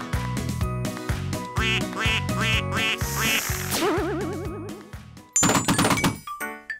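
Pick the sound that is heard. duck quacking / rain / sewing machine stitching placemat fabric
duck quacking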